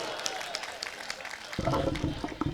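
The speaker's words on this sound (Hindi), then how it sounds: "वाह कमाल है, तालियां बजाइए जोरदार।" Audience applause at an Urdu poetry mushaira, a burst of clapping that starts partway through and builds over a crowd's murmur and a speaking voice, fairly loud and close.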